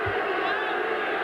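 Crowd roar at a 1983 CFL football game in a stadium, Toronto Argonauts at Saskatchewan Roughriders, with a steady broad wash of cheering voices that holds through the moment without a break.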